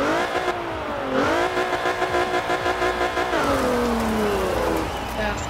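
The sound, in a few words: car engines starting and revving in Forza Horizon 4 video game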